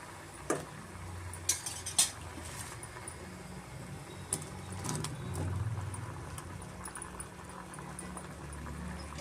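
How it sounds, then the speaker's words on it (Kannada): Fried potatoes go into a simmering curd potato masala gravy in a home kitchen, marked by a few sharp spoon-on-pot clinks and soft stirring over a low bubbling background, fairly quiet. "ಇವಾಗ ನಾನು ಕುದಿ ಬರ್ತಾ ಇದೆ ಪೊಟ್ಯಾಟೊ ಫ್ರೈ ಮಾಡ್ಕೊಂಡಿರೋದನ್ನ ನಾನು ಸೇರಿಸ್ಕೊತಾ ಇದ್ದೀನಿ"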